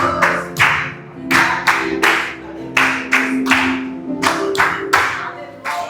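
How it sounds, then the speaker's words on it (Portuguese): Church congregation clapping for the Lord during a sermon: loud, sharp bursts of hand claps in an irregular rhythm fill the room, with no voices over them. "Pode aplaudir o Senhor, irmão."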